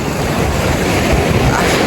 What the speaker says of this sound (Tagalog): So napakita ko sa inyo yung dagat ng Aplaya